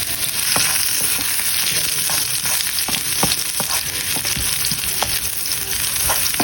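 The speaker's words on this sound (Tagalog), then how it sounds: "Ako po muna ay magigisa ng bawang po at saka po ng sibuyas." Garlic and onion sizzle loudly and continuously in hot oil in a pan, with crisp crackling and occasional clicks of stirring throughout.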